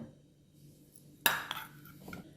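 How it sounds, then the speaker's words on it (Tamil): A quiet kitchen, then one sharp hit as garlic cloves are smashed, followed by a few small taps and clinks. "பூண்டை இந்த மாதிரி 1-2 நசுக்கி தட்டி எடுத்துக்கோங்க"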